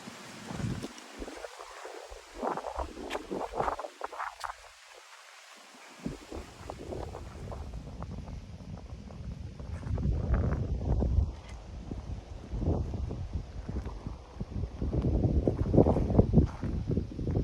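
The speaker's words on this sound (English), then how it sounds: "Nice cool breeze, evening breeze." Cool evening breeze on a hilltop buffets the microphone in steady gusts, with rustling that dips to near stillness for a moment before the wind swells louder again, no voices.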